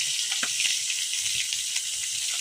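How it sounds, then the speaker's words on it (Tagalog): Fish sizzles as it fries in a home kitchen pan, a steady close hiss of hot oil running unbroken throughout with faint low clatter beneath. "Prito si nanay sa isda"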